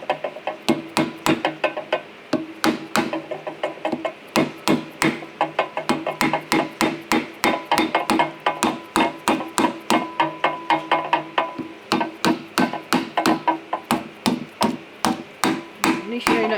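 A hammer taps steadily on Volvo 240 rear axle parts during a rebuild with a G80 locker differential: rapid, evenly spaced metallic knocks, loud and close, continuing throughout with no talk.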